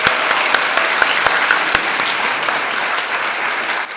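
Audience at a commencement ceremony claps in a full, sustained round of applause, with a few sharp louder claps standing out near the start before the sound eases slightly at the end.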